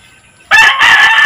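A rooster crowing loudly and close by, one strong sustained call that starts abruptly after a quiet moment and holds to the end.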